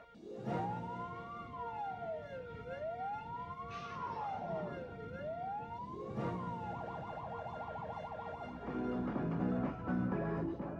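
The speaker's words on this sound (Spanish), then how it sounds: "cuando escuches la sirena de una ambulancia, los bomberos, la policía o cualquier otra emergencia" An emergency vehicle siren wails in slow rising and falling sweeps, then switches to a faster yelping pattern, steady and fairly prominent over a low traffic rumble.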